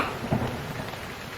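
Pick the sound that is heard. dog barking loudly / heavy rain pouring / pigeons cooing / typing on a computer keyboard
heavy rain pouring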